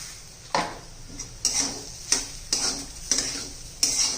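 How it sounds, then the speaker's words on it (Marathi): A spoon scrapes and clacks against a pan while masala sautés, a series of about seven sharp stirring strokes at a regular pace over a faint sizzle. "2 ते 3 मिनिटं मी छान असं परतून घेतलाय हा सर्व मसाला"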